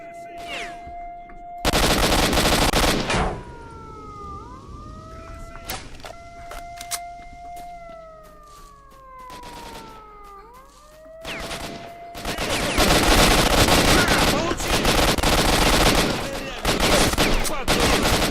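Automatic gunfire rings out in the video game STALKER: Shadow of Chernobyl. Loud bursts of rapid shots arrive in separate volleys, with quieter stretches of in-game tones and clatter between them.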